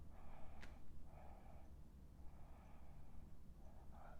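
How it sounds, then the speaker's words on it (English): A person yawning during a silent voice warm-up, with a few soft breathy exhalations spread across a few seconds and a brief sharp sniff-like click near the start, close and quiet. "that was a yawn"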